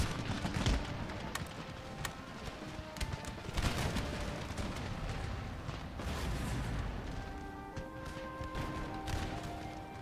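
Musket volleys from massed line infantry in Empire: Total War crackle and pop in ragged, overlapping bursts, with heavier booms mixed in; the firing is moderately distant and sustained throughout.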